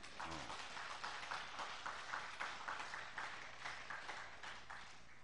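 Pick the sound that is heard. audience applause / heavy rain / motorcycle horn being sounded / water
audience applause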